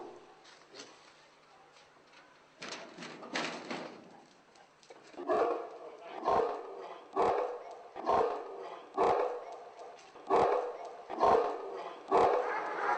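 Large Caucasian sheepdogs penned in a cramped yard bark in a steady run of deep, loud woofs at regular intervals, preceded by scattered quieter barks and yips.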